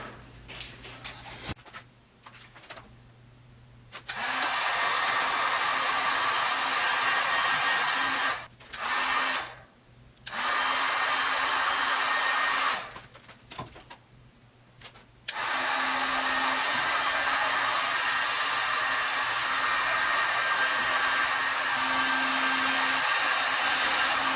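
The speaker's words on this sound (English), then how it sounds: "So so we're gonna heat shrink it up and get back to you here soon." A heat gun blows steadily while shrinking heat-shrink tubing over a wire connector during a blasting-cabinet lighting upgrade, a loud close whoosh that cuts out briefly twice, with only faint sounds between.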